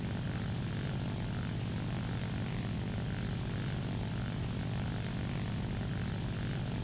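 A World War I propeller aircraft engine in the video game War Thunder drones steadily and loudly throughout, a constant rough hum with no breaks and no voices.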